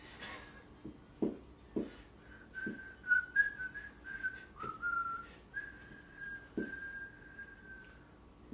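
A person whistles a slow, quiet tune of sustained, wavering notes, accompanied by soft tapping and clicks in a quiet room.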